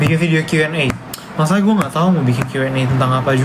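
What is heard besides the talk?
No everyday noise stands out behind the speech.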